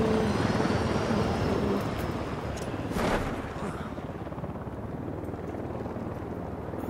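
Helicopter in the video game Ghost Recon Wildlands, a steady loud rotor and engine roar that holds throughout, with a brief burst near the middle before it settles into a continuous drone.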